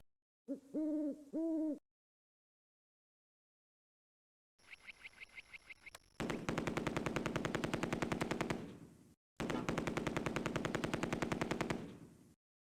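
MG42 machine gun fire in the Close Combat war game, long rapid ripping bursts with a short gap between them, loud and near, after a brief hooting call earlier.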